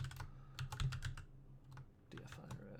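Quick bursts of typing on a computer keyboard, close and crisp clusters of key clicks with a short pause before a final run of keystrokes.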